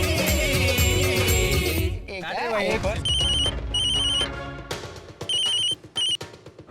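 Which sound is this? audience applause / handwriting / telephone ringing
telephone ringing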